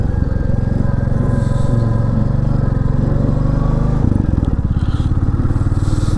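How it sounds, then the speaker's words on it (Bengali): A Royal Enfield Classic 350, a 190 kg motorcycle, rides a hilly road near Lalmai hill, its single-cylinder engine thumping in a steady rapid rhythm, loud and close, with a brief shift in pitch partway through. "পাহাড়ি রাস্তায় রয়্যাল এনফিল্ডের বাইক কেমন ফিল দেয় একটু আপনাদেরকে দেখানোর চেষ্টা করি"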